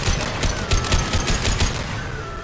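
Rapid gunfire in Mass Effect 2, a quick run of sharp repeated shots, loud and close, fading toward the end with no talking.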